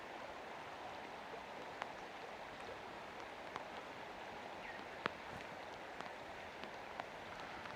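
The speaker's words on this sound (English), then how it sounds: "Rain is getting a little bit heavier, but not unpleasantly so." Rain falling in a rainforest at Gondwanaland near Burnie among tree ferns: a steady, soft hiss of rainfall with scattered sharper drop ticks, distant and even throughout, no voices.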